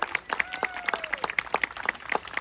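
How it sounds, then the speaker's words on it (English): A crowd claps continuously in a dense, bright patter of applause, with a faint tone sliding underneath. "Another round of applause for them."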